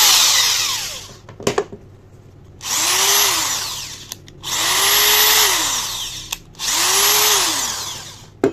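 A cordless drill runs in three bursts, its motor whining up and down in pitch, with short clicks and pauses between each run.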